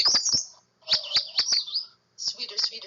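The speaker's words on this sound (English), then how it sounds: "Sweeter, sweeter, sweetest, song of the magnolia warbler" A magnolia warbler sings three short, bright, slurred phrases separated by brief pauses, close and clear against silence.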